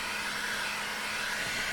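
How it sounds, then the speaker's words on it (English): A heat gun blows hot air onto a plastic case, a steady, even broadband hiss like a hair dryer that runs unbroken and fairly loud with no talking. "I'm going to try to heat that up with a heat gun"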